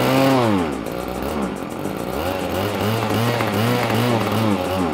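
A small gasoline motor without a clutch, started after sitting unused for two years, runs loud and close with a buzzy, chainsaw-like drone that wavers as the throttle rises and dips, with no talk.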